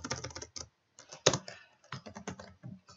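Quick bursts of keystrokes on a computer keyboard, close and clear, arriving in short irregular clusters separated by brief pauses with no talking.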